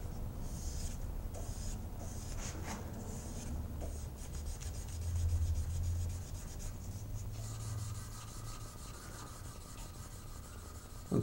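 A knife handle being sanded by hand with finer grit paper: steady, close rubbing strokes in a continuous scratchy rhythm, slightly heavier midway, with no talking.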